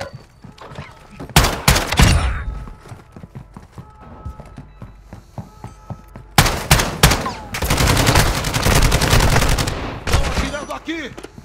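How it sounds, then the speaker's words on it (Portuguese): Bursts of automatic gunfire in the DMZ video game on Ashika Island crack out in loud clustered volleys, with shorter scattered shots between, while players talk over the action. "Estão atirando aqui!"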